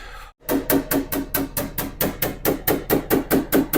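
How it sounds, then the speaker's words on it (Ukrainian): A small hammer taps a car body dent in a fast, even rhythm during paintless dent repair, about four light strikes per second, close and clear after a brief pause at the start. "Ми трошки горб це простукуємо."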